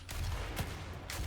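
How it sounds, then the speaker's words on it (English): Gunfire in the first-person shooter Doom: several quick, punchy shots at irregular intervals against a dense, noisy game mix, fairly faint overall. "exchanges of gunfire in the history of digital exchanges of gunfire"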